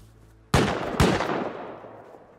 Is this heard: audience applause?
no